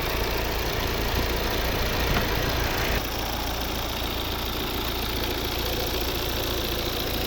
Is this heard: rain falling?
no